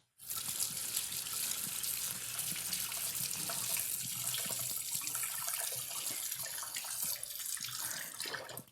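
Water from a kitchen tap runs steadily over a lemon being washed, a continuous close gushing stream with slight splashing changes and no talk.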